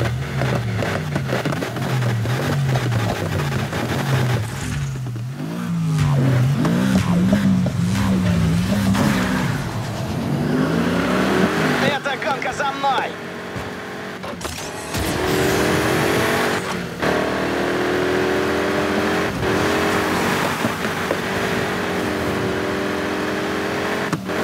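Race cars in Need for Speed Heat roar through the gears, engines rising and falling in pitch with tire squeal and skids, loud and close over background game sound.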